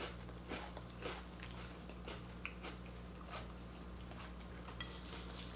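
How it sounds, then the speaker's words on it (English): Crunchy bites of Lucky Charms and Frosted Flakes cereal eaten with milk, a series of irregular close chewing crunches over a steady low background hum. "So now that we've had a chance to eat the cereal"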